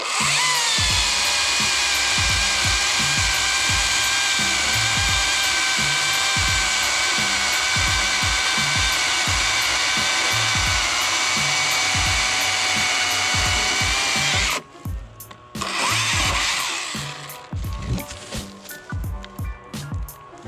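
A Husqvarna T536 LXP battery chainsaw bites into an 8-inch-diameter piece of hard old oak, giving a steady, close whine with rough chatter that runs unbroken, then cuts off and leaves a quieter, uneven tail.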